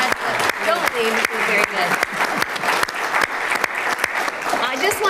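Audience applause at a community coffee event with the mayor, steady clapping filling the room while a person speaks over it.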